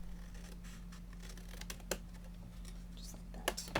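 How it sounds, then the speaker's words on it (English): Paper being cut for a mini album, faint snips and light clicks scattered over a steady low hum, with quiet sharp transients near the end. "I'm going to go ahead and I'm going to cut this piece right here."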